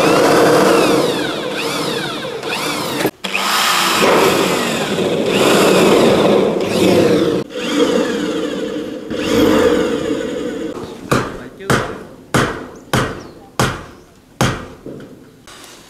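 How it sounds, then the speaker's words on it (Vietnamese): A screw gun drives fasteners into corrugated metal roofing sheets on the rear roof of a house under construction, first a long continuous whir with brief breaks, then a run of short repeated bursts close by, with no talking. "bên cái mái phía sau này thì anh em cũng đã bắn cái tấm tôn cuối cùng rồi"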